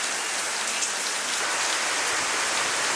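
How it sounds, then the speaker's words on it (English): Steady rain falling in rural Sidemen, Bali, a dense, even hiss of drops on surfaces, constant and fairly close, with no talking. "Yeah, it's raining."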